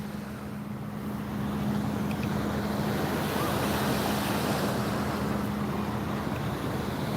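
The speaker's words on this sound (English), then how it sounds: "The waves are here." Ocean waves rolling at sea during a saltwater fishing trip, a steady broad wash of surf and wind with a low hum beneath, no talking.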